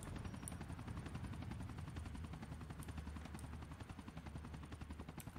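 A helicopter in the video game GTA IV whirs with a steady, fast rotor chop that stays continuous and fairly loud throughout, with no speech.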